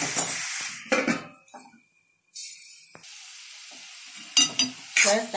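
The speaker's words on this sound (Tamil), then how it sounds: "நல்லா வதங்கட்டும் தக்காளி" Tomatoes sauté in a covered pan for egg kurma, a soft sizzle broken by sharp clanks and scrapes of a utensil against the pan, with a short silent gap midway.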